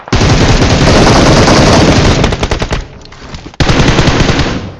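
Automatic gunfire from a mobile battle royale shooter rattles in loud, rapid bursts, nearly continuous at first, then a short gap before another close, dense volley.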